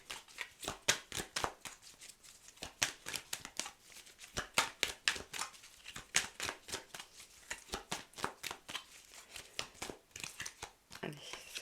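Tarot cards are shuffled and drawn in quick, crisp, papery riffles and flicks, coming in close, uneven bursts while someone talks softly over them.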